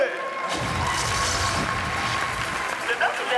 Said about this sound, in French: un tonnerre d'applaudissements pour Alex du Camer